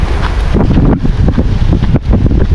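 Strong wind buffets the microphone on a shoreline during shore-cast fishing, a loud, rough, continuous roar with gusty surges and no clear voices.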